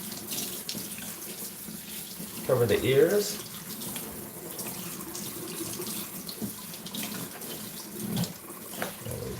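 A tap runs steadily into a sink during a dog's bath at a grooming session, with a louder gush partway through; a person speaks briefly over the water.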